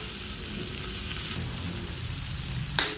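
Tomatoes sautéing in a pan for ginisang sotanghon give a steady, close sizzle and crackle throughout, with a brief sharper clink near the end.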